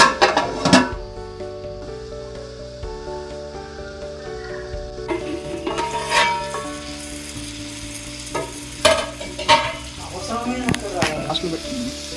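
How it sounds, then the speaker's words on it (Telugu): Fish curry with raw mango being gently stirred in a pan on a low flame, with a soft steady sizzle and scattered scraping and clinking of a spoon against the pan, louder bursts near the end. "మూత ఓపెన్ చేసుకున్నాక ఒకసారి కలుపుకోవాలి."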